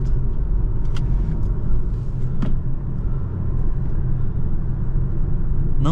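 A 2024 Volvo C40 Ultimate electric car with 408 hp is under way, giving a steady, loud road and tyre rumble with a faint electric hum throughout and a few light clicks.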